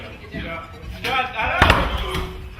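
A person rams a door with their head, giving a heavy thump with a short, loud impact in the middle of the clip amid a muffled voice and some shuffling.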